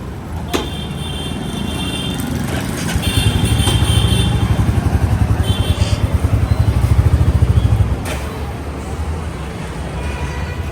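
A Bullet motorcycle engine thumps with a steady, low, rhythmic beat as it rolls slowly, growing a little louder midway, then settling back under a constant rumble.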